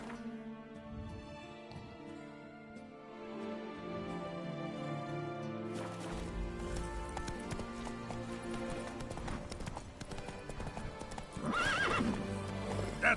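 Geralt's horse Roach in The Witcher 3, hooves clip-clopping in a steady trotting rhythm with an occasional whinny, over game music that swells toward the end.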